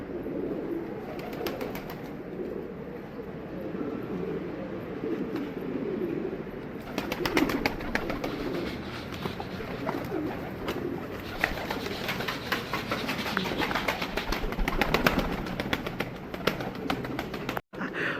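Pigeons coo and flutter close by, with wings flapping and a busy flock rustling and pecking, the activity intensifying partway through.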